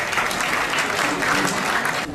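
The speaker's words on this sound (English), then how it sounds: "a big round of applause for Wajiha Malik" Audience applause at a women's fund panel event, a steady, dense round of clapping filling the hall for about two seconds before tapering slightly at the end.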